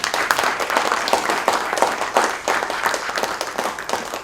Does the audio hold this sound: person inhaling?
no